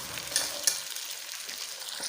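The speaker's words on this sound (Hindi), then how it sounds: "मटन अच्छे से फ्राई हो गया" Mutton fries with golden onions in a hot pan, a brief, bright sizzle with a couple of sharp crackles, heard up close and alone.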